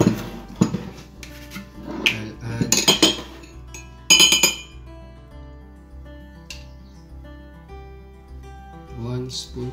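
A spoon scoops and clinks against a dish in scattered bright metallic taps and rattles, louder in a few quick clusters, then softer and sparser.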